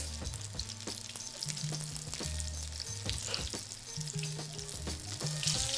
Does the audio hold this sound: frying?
yes